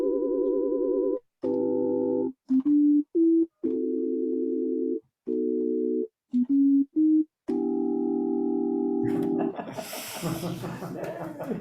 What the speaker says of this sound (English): if you know what an LFO and an FM synth is,